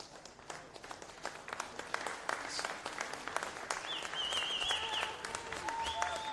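Applause for substituted players at a League One NSW men's football match, steady scattered clapping from a modest crowd that builds slightly, with a faint whistle-like tone near the end.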